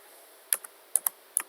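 Fingers type on a laptop or desktop computer keyboard, a few quick, close clicks in small bursts with quiet gaps between.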